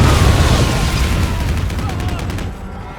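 Loud booms and rapid bursts of gunfire from the action shooter Stranglehold, crowded together near the listener and tapering off toward the end, with a voice faintly mixed in.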